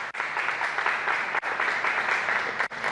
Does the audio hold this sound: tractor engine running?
no